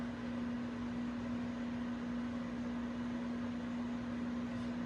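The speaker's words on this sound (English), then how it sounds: "So we'll get that melting in the microwave." A microwave oven hums in a constant, even drone with a steady mains-like tone while melting ingredients for keto sugared nuts, running alone without talk.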